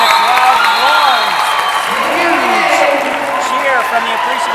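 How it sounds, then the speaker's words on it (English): A hometown crowd in a Montreal arena roars and cheers after a win, loud and sustained, with applause and whoops throughout while a commentator talks over it. "Huge cheer from the appreciative hometown fans here in Montreal"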